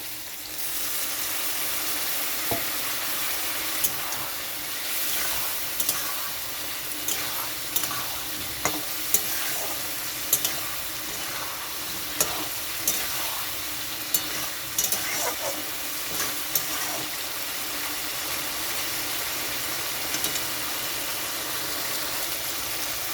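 Papaya curry made with Gobindobhog rice sizzles steadily in a pan after a splash of water, a broad continuous hiss with scattered clicks and scrapes of stirring throughout, close and fairly loud with no talking.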